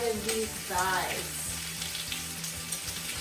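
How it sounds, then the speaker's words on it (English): Chicken thighs searing in a hot pan, a steady sizzle and crackle with scattered pops, a short voice-like tonal sound briefly riding over it near the start. "So what you're waiting for to hear is a good sear sizzle"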